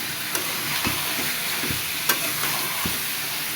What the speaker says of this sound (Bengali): মাংসটা ভাজা হয়ে গেছে